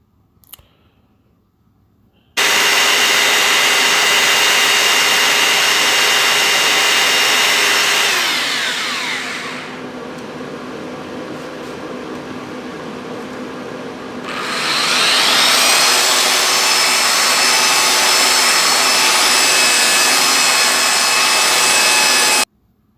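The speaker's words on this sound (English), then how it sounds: "now I'm unpacking my new belt sander that I was very happy with" A new belt sander runs alone on wood with a loud, steady whining hum. Its pitch drops and the noise softens for a few seconds midway, then it spins back up to full speed before cutting off.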